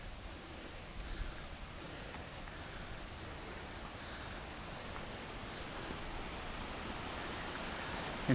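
Roaring Creek rushes steadily as a broad, even wash of water noise, close and continuous, with faint wind buffeting the microphone and no voices.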